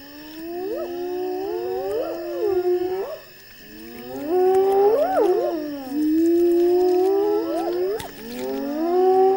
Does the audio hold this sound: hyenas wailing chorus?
yes